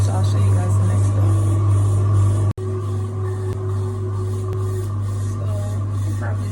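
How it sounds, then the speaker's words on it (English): A facial vacuum suction device runs on the skin during a salon facial in Italy, a constant close mechanical hum with a steady rasping, hissing suction and one brief cut partway through. "it's a vacuum that's squeezing on my face"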